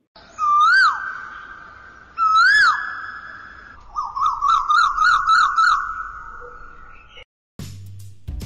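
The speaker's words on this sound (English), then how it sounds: "You know that quail sings sweetly." A quail sings loudly and close: two long, slurred whistled calls, then a quick run of repeated chirping notes, ending with a short thump.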